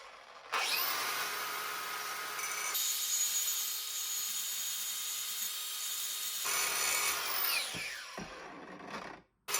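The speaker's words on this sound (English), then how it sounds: "I think I'm gonna grind this down and see if I can get it to fit over the Zerk fitting" A power grinder shaves down a metal part to fit over a Zerk grease fitting during u-joint replacement on a 44-year-old Jeep Cherokee Chief full-size; a steady, loud whining grind runs for several seconds, shifting pitch as pressure changes, then cuts off.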